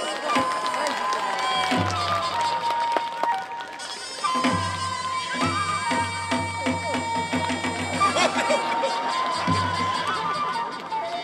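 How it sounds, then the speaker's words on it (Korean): Audience applause and cheering at a traditional Korean tightrope-walking performance at a palace culture festival, a crowd clapping and shouting in bursts around a voice talking and calling out over loud music. "여러분 박수 한번 주시오."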